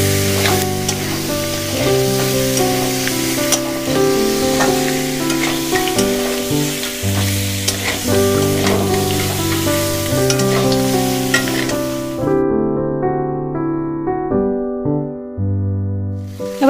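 Pre-fried potatoes tipped into a sizzling crab curry give a loud, steady frying hiss with stirring that runs for most of the stretch under background music, then cuts out near the end.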